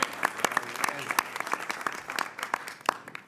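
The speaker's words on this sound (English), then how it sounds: "Can I get a round of applause?" Scattered, uneven clapping from a modest audience in a county commissioners' meeting room, individual claps distinct and irregular rather than a full ovation, with faint voices underneath.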